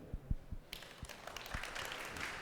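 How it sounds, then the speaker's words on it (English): Faint applause from a conference audience at DefCamp 2025 after a security talk, starting abruptly after a few soft taps and continuing as a steady, distant patter. "A big round of applause."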